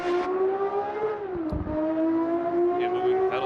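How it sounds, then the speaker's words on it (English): Steady engine drone from a racing video game car, holding a sustained pitch with a slight dip and recovery midway, loud and continuous with faint talk in the background. "All the cars have unique sounds."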